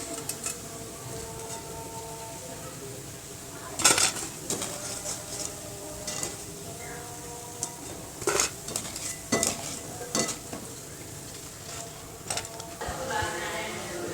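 Fried chana dal pakodas are lifted from hot oil, a quiet sizzle under repeated clanks and scrapes of a metal slotted spoon against the pan, in irregular bursts with faint background voices.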